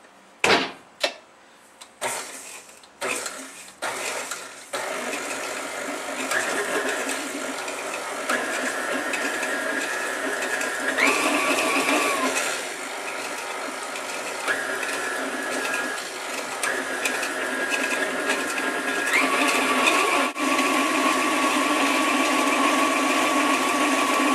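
A few sharp knocks, then a KitchenAid stand mixer whirs steadily for about twenty seconds, beating oatmeal toffee cookie dough with small shifts in pitch.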